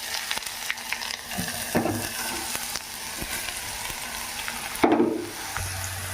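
Carrots frying in ghee with curry leaves in a pan, a steady close sizzle with spatula scrapes and stirring knocks, and one louder stir near the end.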